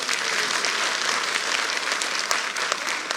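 A large audience at a chief minister's event in Bhopal claps steadily in a dense, even burst of applause lasting several seconds.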